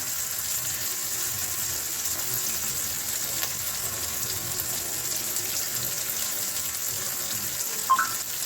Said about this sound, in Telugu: ఆనియన్స్ రెడ్ అయిన దాకా ఉంచాలండి బాగా వేగిన దాకా